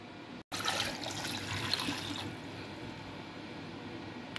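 Water poured into a cooking pot holding onions and garlic, a steady close rushing splash that is briefly interrupted near the start, then continues and softens as the pot fills.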